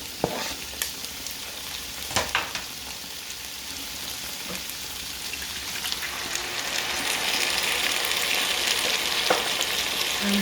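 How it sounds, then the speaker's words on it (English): Tomatoes and shredded carrots for an eggplant sauce cook on low heat in a pan, giving a soft, steady sizzle with occasional utensil scrapes and taps. The frying grows slightly louder toward the end; no talking. "I'm also going to add the tomatoes and give them on low heat, about 2 minutes of cooking"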